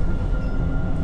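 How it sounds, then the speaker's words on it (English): Airport sky train running between terminals, a steady low rumble and hum of the moving car heard up close and continuous, with no talk. "Sky train is going on for longer than I had expected."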